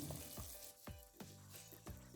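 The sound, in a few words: broth boiling in a pan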